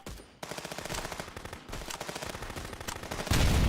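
Rapid automatic gunfire rattles in a shooter video game, dense bursts of close shots with a short pause and a louder burst at the end, no voice over it.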